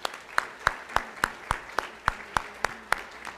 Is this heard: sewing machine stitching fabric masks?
no